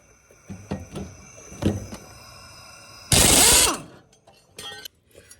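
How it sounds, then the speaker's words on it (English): An impact wrench removing the mower blades on a John Deere tractor: a few light clanks and ratcheting clicks, then one loud half-second burst of hammering rattle, followed by more faint metallic knocks. "let's get under here with the impact and put these blades off"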